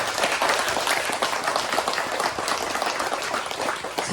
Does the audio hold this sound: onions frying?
no